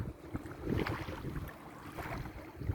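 Boat at sea off Aktau towing a parasail, heard as a faint, steady rumble of wind and water against the hull with buffeting wind noise on the microphone and no voices.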